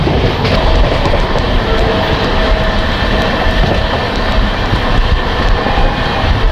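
The 12311 Howrah-Kalka Netaji Express, on its first run with LHB coaches, rolls past Dankuni at speed. A loud, steady rumble of wheels and coach noise carries faint rhythmic clicks throughout.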